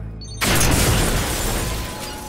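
In Call of Duty: Ghosts, a breaching charge detonates with a sudden loud, sharp blast that rolls into a long, rumbling decay.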